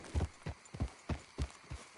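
Hooves clip-clop in an even trotting rhythm, close and distinct, with no voices, from a horse in the video game Red Dead Redemption 2.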